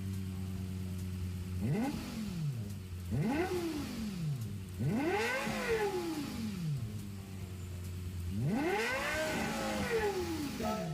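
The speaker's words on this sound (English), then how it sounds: "Oh, we're gonna hear the engine." A Renault Avantime with a Lexus LFA engine in Gran Turismo 7 revs hard four times, each rise climbing to a high whine and dropping back to idle, loud and close with no talking.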